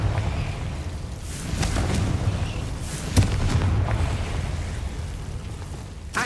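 Booming blasts from the Confringo fire spell in Hogwarts Legacy roll through a continuous low rumble, with a sharp crack near the middle and another burst at the end.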